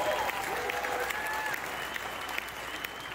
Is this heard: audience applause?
yes